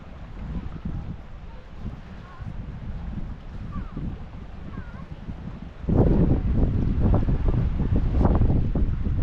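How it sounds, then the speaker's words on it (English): Cold wind blowing across an East Coast pier, a steady loud rush buffeting the microphone that grows stronger and gustier partway through, with no voices over it. "The wind still sucks"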